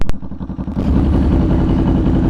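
Motorcycle engine running as a beginning rider lets off the clutch, a loud close rumble that chugs briefly then settles into a steady, slightly rougher drone.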